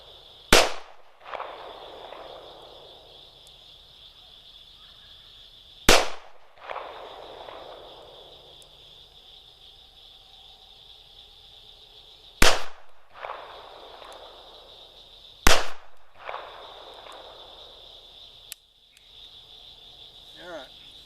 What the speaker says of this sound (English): the one-hand slow fire definitely is a way to shoot